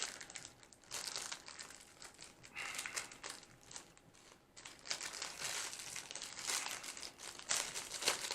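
Plastic packaging around an ION Camo Cam camera being opened up close, quiet crinkling and crackling in irregular bursts with short pauses between.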